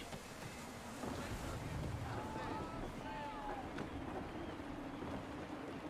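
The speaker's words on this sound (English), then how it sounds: "Gusty winds can be difficult to manage." Gusty wind buffets a sailing ship at sea in Assassin's Creed 3, a steady windy roar with waves under it, and a voice speaks partway through.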